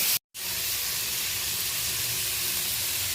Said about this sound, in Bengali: পেঁয়াজ, টমেটো, কাঁচা লঙ্কা ফোড়নের সাথে আমি ভালো করে নেড়ে চেড়ে নরম হওয়া পর্যন্ত অপেক্ষা করব